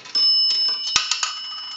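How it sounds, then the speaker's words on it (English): An Automatic Electric three-slot payphone's coin bell rings twice as a dime drops, two bright metallic chimes in quick succession with a ringing tail, close and clear with no voices. "We'll do a dime that will ring the bell two times."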